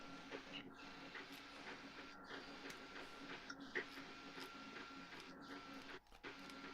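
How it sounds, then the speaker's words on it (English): A 3D printer runs nearby with a steady, faint whirring hum and regular ticking like a train on rails, continuing without pause for about seven seconds. "Your 3D printer thing sounds like a train"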